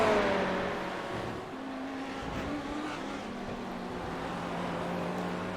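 A McLaren GT3 race car at Sebring in iRacing holds a steady, droning engine note with a sustained tone and small shifts in pitch, loud and continuous throughout.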